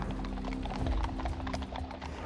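Horses ridden through central London past Parliament Square and Buckingham Palace, their hooves clip-clopping on the street in a quick irregular patter, moderately near amid general outdoor crowd bustle.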